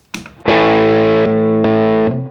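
Electric guitar played through a King of Tone overdrive pedal: a short picked note, then a loud, sustained distorted chord ringing out, briefly re-struck partway through and held before cutting off.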